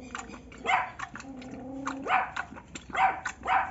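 A dog barks in several sharp bursts, with growls in between, close by and fairly quiet. It is heard during the rescue of a sick, abandoned dog from a garbage site.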